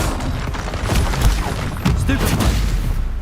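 A Confringo fire-blast spell in the Hogwarts Legacy game sets off a rapid string of booming explosions and crackling impacts. The barrage is loud and close and keeps going with little pause, layered over busy combat noise.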